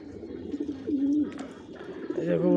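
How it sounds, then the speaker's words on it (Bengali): Soft, repeated cooing of pigeons let out of their cage near a home, the low throaty calls close and continuous, with faint rustling and a voice murmuring underneath. "এই যে কবুতরগুলো ছাইরা খাঁচাটা অনেকদিন পরে পরিষ্কার করা হইলো।"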